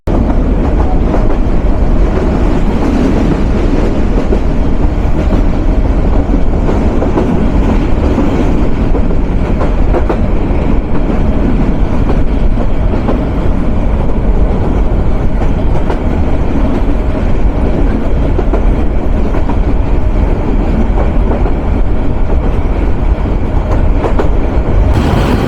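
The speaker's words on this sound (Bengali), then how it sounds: "অগ্নিবীণার চাকা ঘুরছে, তার পরবর্তী যাত্রা বিরতি স্টেশন সরিষাবাড়ির উদ্দেশ্যে" Agnibina Express train rolling steadily on rails after leaving a station stop, a continuous loud rumble with faint clickety-clack of wheels throughout, no talking.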